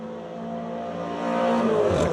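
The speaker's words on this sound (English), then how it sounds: "As the 97 car of Alan Spies goes through, he's still got Brady Chaudhry right behind him" Race cars on the Border 100 track drive past, a rising engine roar that swells and climbs in pitch as a car closes in and nears the end, loud and unaccompanied by any voices.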